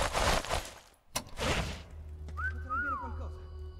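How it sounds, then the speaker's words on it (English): A character's whistle in the shooter Sniper Elite 4, a short rising-and-falling tonal call heard after a man's speech and a sharp knock, fairly clear over low ambient rumble. "There you go, whistled"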